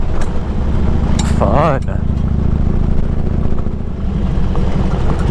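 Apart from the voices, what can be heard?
20-year-old Harley motorcycle riding on gravel road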